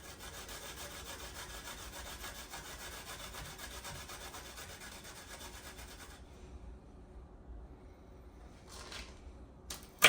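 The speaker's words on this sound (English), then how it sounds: "you're gonna grate your garlic on your" Garlic cloves grated on a grater, a quiet steady rasping scrape of rapid strokes for about six seconds, then stopping, with a couple of brief faint scrapes near the end.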